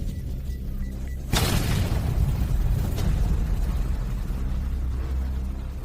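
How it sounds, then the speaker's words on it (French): A water bomb goes off with a sudden loud burst, followed by a long rumbling wash of noise that fades slowly. "Ah, une bombe à eau."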